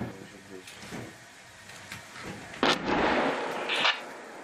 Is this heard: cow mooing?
no